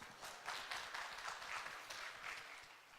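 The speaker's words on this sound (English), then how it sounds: "Round of applause." Very faint, distant applause rises and fades over about three seconds as a congregation gives a round of applause. No speech sits on top of it.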